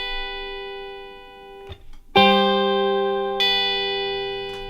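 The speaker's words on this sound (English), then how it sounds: "when we play the three tones at the same time, with the left hand we do a pull-off." An electric guitar sounds three notes together, then a left-hand pull-off changes the pitch as the chord rings out, sustained and clear with a short muted gap in the middle, while playing a pop song lesson.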